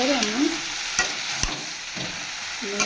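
Jackfruit curry cooking in a pan, with cardamom and cinnamon added and stirred through. A close, steady frying hiss carries a few sharp scrapes and knocks of the spoon, with no talk over it.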